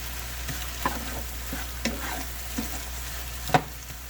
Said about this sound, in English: Start hearing that hefty duty sizzle.